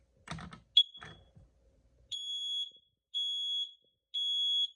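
A Kidde KN-COSM-B fourth-generation smoke and carbon monoxide alarm from 2007 sounds three loud, evenly spaced electronic beeps, each about a second long, after a brief burst of clicking and a short chirp.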